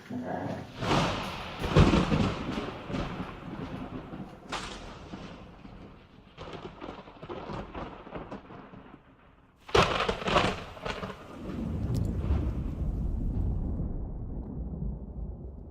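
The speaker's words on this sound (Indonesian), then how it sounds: "Sepertinya mau hujan besar, Pak." A heavy thunderstorm with rain at night, with several sharp booming thunder cracks, the loudest near the middle, followed by a steady low roar of heavy rainfall.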